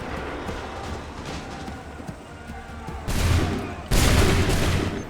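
Musket volleys fired on command in Assassin's Creed III battle, a dense crackle of many shots building into two loud, broad bursts of gunfire that roll on for about a second each.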